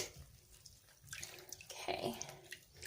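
A grubby handspun yarn skein soaks in a basin of water, with faint, close sloshing and trickling as it is gently pressed under, quiet and intermittent.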